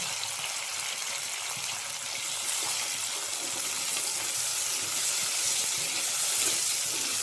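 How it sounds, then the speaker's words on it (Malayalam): Onions frying and being stirred in a pan while a meat roast is prepared, giving a steady, even hiss of sizzling oil that holds at moderate volume throughout with no voice. "ഉള്ളി ഒന്ന് മൂക്കുന്നവരെ ഒന്ന് ഇളക്കുക."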